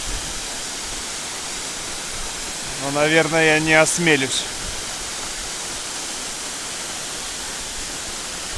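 Steady broadband rush of the Chegem waterfalls in Kabardino-Balkaria, continuous and enveloping, with someone briefly speaking over the roar midway.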